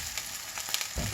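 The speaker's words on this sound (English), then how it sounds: "Just let it cook for 2 or 3 minutes on that side and flip it over." Homemade breakfast sausage made from fresh-ground, home-grown chicken fries in a cast iron pan with a close, steady hiss and crackle and bright pops, brief and continuous.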